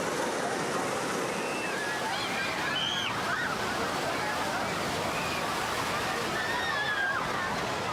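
Ocean surf breaks and washes steadily at a beach where people play in the waves, a continuous broadband roar filling the scene with faint distant voices and cries mixed in.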